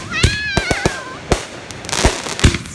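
Fireworks explode in a rapid series of loud, sharp bangs, with a high whistling rocket at the start and crackling bursts later, close and intense.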